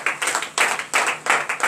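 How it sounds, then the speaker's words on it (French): A congregation claps together at a Monday morning prayer service in Benin, several loud rhythmic bursts of clapping close by with no speech. "Donnez l'acclamation à l'Éternel."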